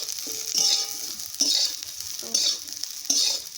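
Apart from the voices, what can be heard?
cooking sizzling in a pan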